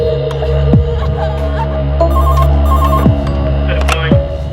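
A telephone rings repeatedly over a steady droning music bed, with a few sharp hits punctuating the background in a crime drama scene as a call is placed to the police.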